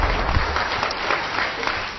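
A church congregation gives lively applause during a sermon, a dense, continuous wash of many hands clapping at once that holds steady for the whole stretch.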